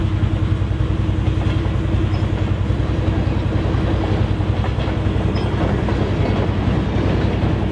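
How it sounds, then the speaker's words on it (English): An HO scale model log train rolls along steadily with a continuous rhythmic clickety-clack of wheels over track, close and fairly loud, no voices. "The crew running the log train is heading down grade"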